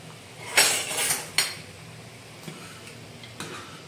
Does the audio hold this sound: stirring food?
yes